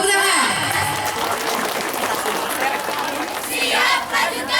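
Students at a junior high school marching competition break into lively applause, a dense burst of close clapping with crowd noise that swells again near the end.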